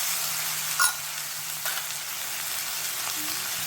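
Spices fry with black mustard paste and tomato paste for rui fish curry, a constant close hiss and sizzle broken by a couple of faint spoon knocks, with no talking.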